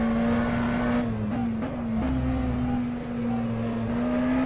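McLaren Senna GTR race car in rFactor 2 at COTA, its engine droning steadily at high revs with slight pitch shifts through gear changes, continuous and close.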